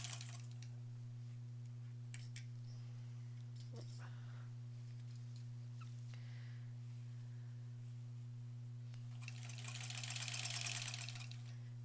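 A sewing machine stitches sashing for a granny squares quilt, its motor a steady, faint low hum throughout, with a brief louder whirring burst near the end.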